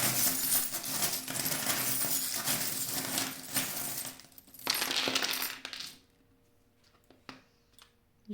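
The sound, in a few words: divination charms being cast onto a surface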